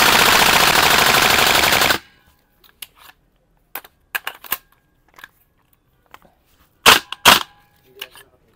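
A WE M16A3 gas blowback airsoft rifle fires full auto in one loud, continuous two-second burst. Scattered sharp clicks and handling knocks follow in near silence.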